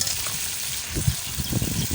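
Potatoes and pointed gourd fry in a pan, giving a steady close sizzle with a few soft stirring bumps and no voices.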